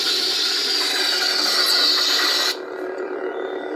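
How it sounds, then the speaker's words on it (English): Blade lockup effect on a Sumerian Custom FX lightsaber: a steady, harsh crackling buzz held loud and close for about two and a half seconds, then dropping abruptly to a quieter hum with no talking. "Hold it for lockup."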